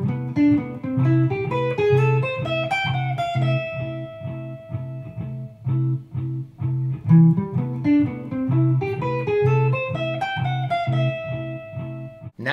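A clean guitar plays a flowing minor seven arpeggio line, notes rising and falling in steady phrases with some ringing, played alone at moderate volume.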